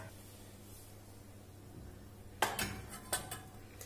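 Cupcake cups of semolina chocolate batter set down one by one on a steel plate inside a pot, a few light metallic clinks and taps, faint and close after a quiet stretch.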